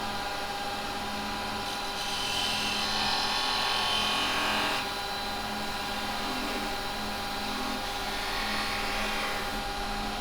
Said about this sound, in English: Now I'll come in with my skew.